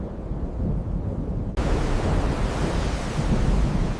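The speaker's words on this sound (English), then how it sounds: "the fury of the storm began to fade" A relentless storm roars on without a break: dense broadband rushing of wind and heavy rain, loud and close, with a brief dip partway through before the noise swells back just as thick.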